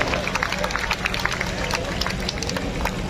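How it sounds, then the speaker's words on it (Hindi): A large audience claps loudly and steadily at the inauguration of the BJP Delhi state party office, with dense, continuous applause and some crowd murmur filling the whole stretch. "एक बार मैं चाहूंगा आप सब उनके लिए भी जोरदार ताली बजाएं"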